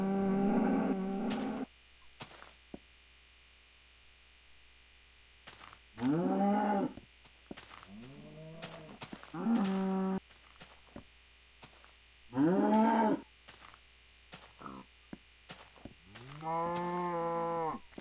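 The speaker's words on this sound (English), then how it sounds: "Shut up, you damn cows." Minecraft cows moo repeatedly, five or six drawn-out, slightly nasal game moos, some overlapping, spaced by quiet gaps over a faint background hiss.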